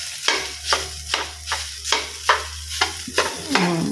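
Leftover egg stirred into rice in a hot pan for carrot fried rice, with regular scraping strokes over a low sizzle, about eight close rhythmic stirs.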